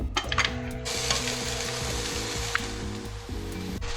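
Onions stir-fry in a hot pan, a steady sizzle with scraping and stirring clatter close by, alongside a faint, repeating mechanical tone.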